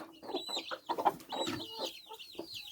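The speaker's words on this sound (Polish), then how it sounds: "po prostu podkładam pod kwokę i ona chowa jak swoje" A broody hen clucks close by in a run of soft, rhythmic, throaty calls that rise and fall steadily with no talk.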